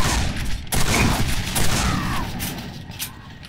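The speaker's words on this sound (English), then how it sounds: "I just don't like the fucking machine gun." Dense machine gun fire from Quake 4 roars as a steady, continuous barrage, loud and close with no voices over it.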